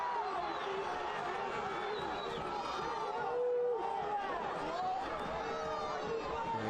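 An angry soccer crowd in the stadium at an FC Naples versus Portland Hearts of Pine match, a continuous roar of jeers and shouting from many voices, with an announcer talking over it.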